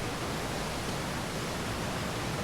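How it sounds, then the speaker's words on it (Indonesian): River water flows steadily beneath an old, moss-covered bridge on a shaded mountain trail, a continuous broadband rush that stays even and fairly close throughout. "tadi suara gemucik itu suara sungai yang di bawah ini"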